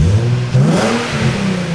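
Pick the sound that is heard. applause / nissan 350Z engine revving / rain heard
nissan 350Z engine revving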